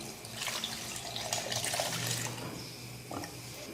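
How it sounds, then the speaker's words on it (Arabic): Leftover milk pours into an electric blender jar holding a juice mixture with strawberry yogurt, a steady close, soft liquid splashing and trickling with no voices. "غندير عليه الحليب المتبقي"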